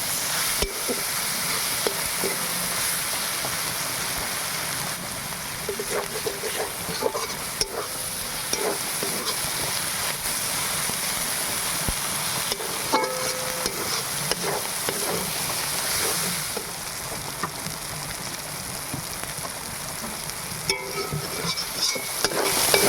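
Spices sautéing in a hot pan for a fish roe curry, with a steady oil sizzle and stirring scrapes throughout, close and continuous with no talk.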